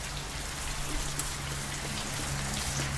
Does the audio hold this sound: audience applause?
no